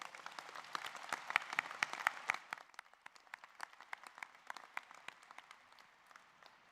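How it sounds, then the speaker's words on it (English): Audience applause at an RMIT University School of Science stage event, many hands clapping in a dense burst that thins into scattered, quieter claps toward the end. "Can we have another round of applause?"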